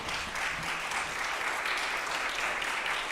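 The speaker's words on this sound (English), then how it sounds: "Give him a big round of applause." An audience at a jazz vespers service applauds a jazz musician with a steady, dense wash of clapping that lasts the whole stretch and has no clear breaks.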